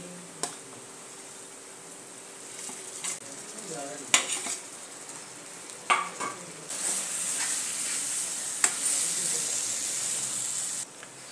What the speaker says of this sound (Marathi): तर त्यामध्ये मी बारीक केलेले वांगे टाकते.